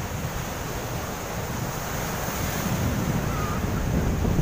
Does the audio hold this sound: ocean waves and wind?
yes